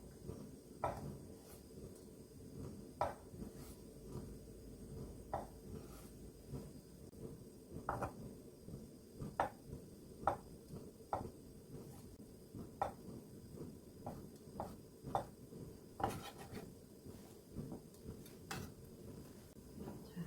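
A knife slices vegetables into 0.5 cm pieces for bibimbap in a Korean cooking exam setting, making faint, sparse taps against a cutting board at an uneven pace in an otherwise quiet room, with no talking.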